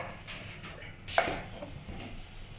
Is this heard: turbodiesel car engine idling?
no